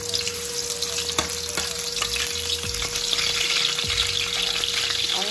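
Sliced galangal sizzles in hot oil in a home kitchen pan while cooking bami, a steady close crackle and hiss with occasional sharper pops and stirring clicks, no talking.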